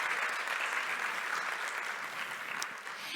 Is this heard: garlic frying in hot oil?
no